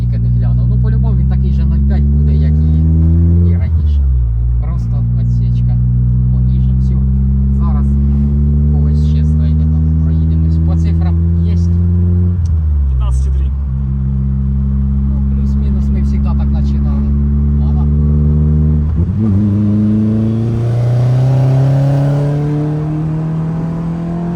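Daewoo Lanos cars in evening street racing, one engine loud and close as it revs hard and accelerates through several gears, pitch climbing steadily and dropping at each shift, a constant roar throughout.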